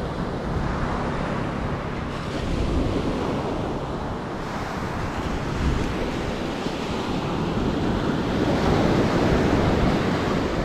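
Ocean waves roll and crash continuously, a dense wash of surf noise mixed with wind rushing across the microphone.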